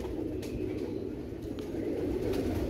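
Bichu breed pigeons coo softly in a low, continuous murmur of overlapping calls from nearby birds, with a few faint higher chirps and no talking.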